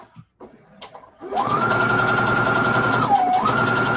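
A sewing machine starts up after a few quiet clicks and hums steadily while stitching a quilt seam, with a brief dip in pitch as it slows near the end; no talking.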